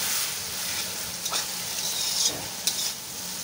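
Chicken masala sautéing in a pan with green chilli paste, a steady close sizzle with occasional stirring scrapes and clicks, no talking.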